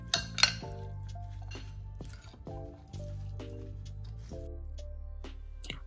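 A spoon clinks and scrapes against a bowl while channa chaat with salt and fresh lemon juice is mixed, giving several distinct clinks spread through a faint background hum with no voice.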